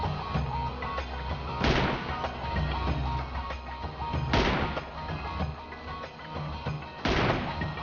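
M24 sniper rifle in PUBG Mobile firing three loud, sharp shots spaced a few seconds apart, each cracking over a constant low rumble of game ambience.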